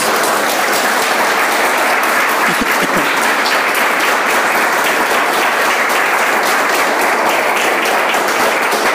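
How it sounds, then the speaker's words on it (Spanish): A church congregation applauds during a Spanish-language worship service, a loud, dense and steady wash of many hands clapping that fills the whole stretch without pause. "Dale el aplauso al Señor"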